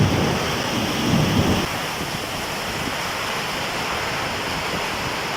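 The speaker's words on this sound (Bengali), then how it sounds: "কি বৃষ্টি, মেঘের গর্জন।" Heavy monsoon thunderstorm over a river wetland, with a dense, steady roar of pouring rain and a deep rumble of thunder swelling early on before the downpour continues loud and unbroken.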